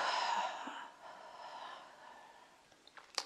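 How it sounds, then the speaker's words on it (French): A long, breathy exhale during a Pilates breathing exercise, lying with arms along the body. It starts fairly strong and slowly fades to near silence, with a few faint soft sounds at the end. "et une longue expire."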